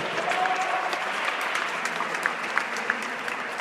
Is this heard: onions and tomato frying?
no